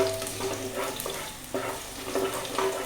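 Mustard seeds frying in oil in a pan over moderate heat, a continuous close sizzle with scattered small pops and a faint stirring scrape, no voices.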